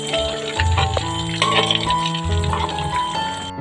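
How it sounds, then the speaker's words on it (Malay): Cassava pieces deep-frying in oil until golden and crisp, with bubbling and rattling sizzle close by, louder bursts as the pieces are turned. "Ubi ni kita akan goreng sehingga ia bertukar warna menjadi kekuningan dan juga garing"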